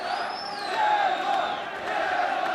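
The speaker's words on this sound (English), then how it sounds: "This crowd making a lot more noise than you might have expected from only" Boxing arena crowd of about 900 spectators roaring and cheering ahead of a fight, a steady loud wash of voices with a whistle-like tone gliding down over it.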